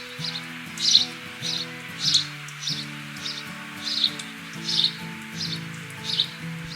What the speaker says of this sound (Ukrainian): горобець.